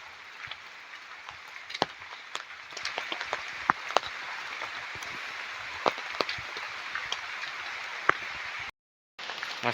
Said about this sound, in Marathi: छत्री तर बंद नाही करत पाऊस जातो येतोय कसं होतंय पाऊस